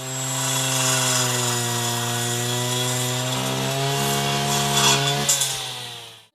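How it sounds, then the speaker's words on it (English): A petrol grass cutter weeder with a three-tooth or circular blade drones steadily at high revs while cutting weeds just above the ground, loud and continuous, with the pitch wavering slightly under load before cutting off at the end. "3-tooth or circular blades cut off the weed just above the ground"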